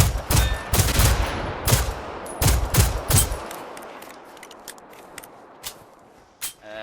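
Shotgun blasts from an enemy machine in Generation Zero, a burst of loud, sharp reports in quick succession with a few spaced shots, then a decaying tail and a final faint crack.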